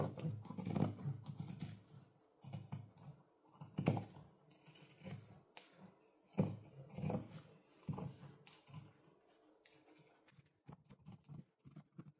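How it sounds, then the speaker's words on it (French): Scissors snip repeatedly while notching around the edge of fabric to trim off excess, a series of close, crisp cuts in an uneven rhythm with short pauses between bursts. "c'est cranter tout le tour afin de retirer l'excès de tissu"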